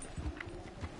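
Hooves of a white horse clip-clop in Red Dead Redemption 2, a steady run of soft, thudding low beats at moderate loudness over a continuous game background.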